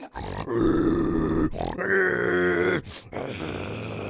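A man imitates an angry Minecraft mob with his voice, making three loud, close, guttural growling grunts separated by short breaths.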